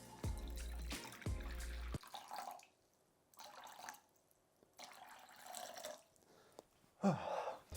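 Warm water is poured into a mixing bowl of salt for bread dough in a few separate splashing pours broken by quiet gaps, with a low thump near the start and a louder splash at the end.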